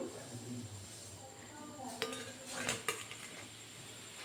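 Freshly fried methi vada (fenugreek fritters) are lifted onto a plate, giving a few light metallic clinks and scrapes of a utensil against the dish, quiet and close.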